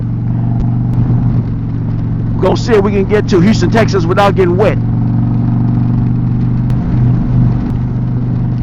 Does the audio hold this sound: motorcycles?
yes